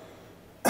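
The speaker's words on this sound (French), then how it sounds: "Toussez." A cough during a prison medical examination bursts in suddenly near the end as one short, loud, close hack after a quiet room.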